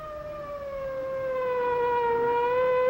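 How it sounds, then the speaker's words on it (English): An emergency vehicle's siren wails in a steady rising tone, growing gradually louder as it approaches, with no voices. "the driver can hear the warning sound of a siren"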